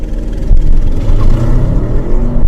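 A 2023 Audi RS 7 in its most aggressive drive mode accelerates hard from a standstill, its engine roaring loud and close with a steady, rising growl throughout.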